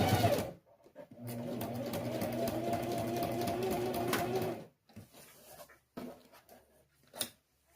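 A sewing machine runs a short stitch along the edge of a fabric pencil case to hold its lining in place, a steady mechanical whir for a few seconds followed by brief stops and small handling clicks.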